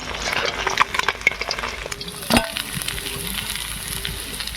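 Fried fasha fish lifted out of hot oil, the frying sizzle hissing steadily with scattered clicks and a sharp scrape of a utensil near the middle, close and moderately loud with no talk.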